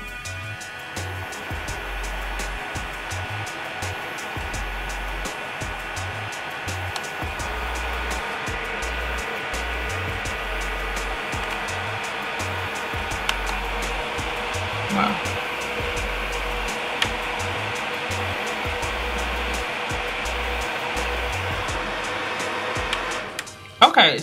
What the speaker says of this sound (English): this is my first dust collector, so I don't know what other dust collectors sound like